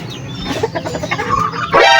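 Chicks and grown chickens clucking and peeping close by on a Filipino poultry-raising farm, a busy overlapping chorus of calls that swells louder toward the end.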